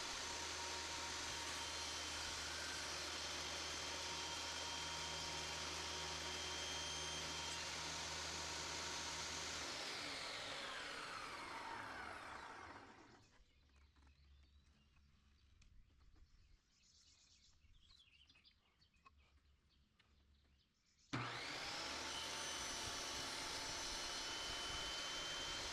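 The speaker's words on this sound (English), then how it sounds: "This speeded up clip shows 2 cuts being made for the sides of the slot." Machine cutting a slot into a rough base for a Stuart Twin Victoria engine model, sped up: a loud steady whine for several seconds, then fading to quiet with faint clatter, before resuming abruptly and loudly.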